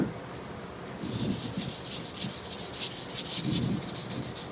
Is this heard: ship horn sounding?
no